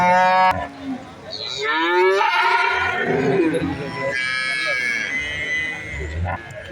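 Cattle low loudly and repeatedly at the Valliyoor cow market in Tirunelveli, where an HF heifer is on sale. Several long moos rise and fall close by, with people talking around them.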